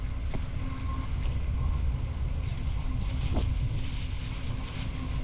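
Wind rushes steadily past the microphone beside the water during work on a wooden boat, a constant low blustery roar with faint knocks and no talking.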